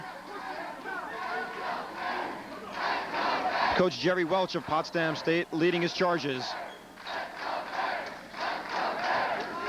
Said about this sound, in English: there's that crowd picking up the chant of "Let's go Bears."